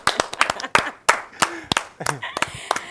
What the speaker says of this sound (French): on applaudit pour mon invité